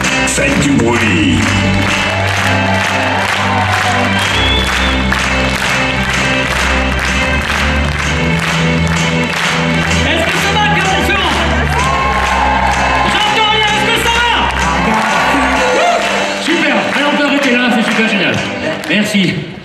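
A concert crowd at the Zénith d'Auvergne cheers, whoops and applauds loudly and continuously, with dense shouting and clapping filling the hall.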